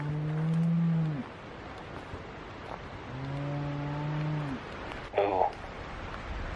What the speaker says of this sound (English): So he finds the cows, and then he corrals them back.